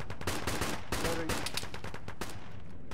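Gunfire in a military video game: dense, continuous bursts of rapid shots and overlapping reports, loud and close throughout, with no clear gaps.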